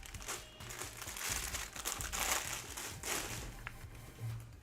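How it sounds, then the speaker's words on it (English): LEGO piece bags crinkling and rustling continuously up close, in bursts of crackly plastic noise with a few louder crumples, no talking. "Sorry about the crinkling going crazy."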